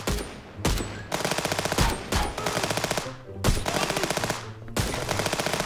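Automatic gunfire from a police shooting video game comes in several loud, rapid bursts separated by short gaps, each a dense rattling stream of shots, close and without talk.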